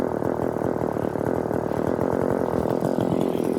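A McCulloch Pro Mac 435 VC chainsaw with a dull chain runs steadily at a low, slightly under-tuned speed, a loud, continuous buzzing engine drone close by with no speech.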